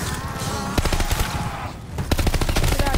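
Rapid machine gun fire from Call of Duty Vanguard zombies mode, loud sustained bursts with a brief lull near the middle, then resuming.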